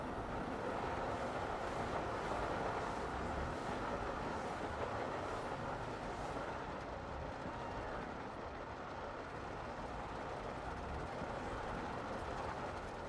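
A runaway mine train roller coaster in the video game Planet Coaster rumbles along its track in a steady, continuous clatter with a faint rushing wash, heard alone without talk.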